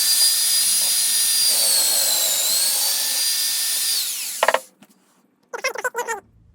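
An electric drill mounted on a WABECO drill stand bores into wood with a loud, steady high whine for about four seconds. It then stops abruptly, followed by a short burst of speech.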